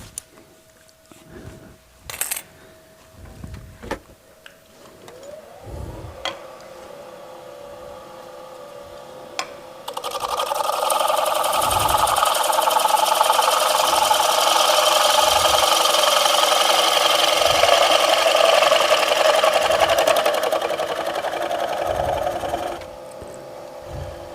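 A wood lathe turning a piece of wood: scattered knocks and clicks at first, then a steady loud cutting hiss for about twelve seconds before it drops away, with no talking.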